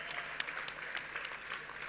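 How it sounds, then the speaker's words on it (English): Audience at a foundation's tenth anniversary celebration applauding steadily, a dense wash of clapping from many hands throughout, moderately distant and fairly quiet. "Let's give them a nice round of applause."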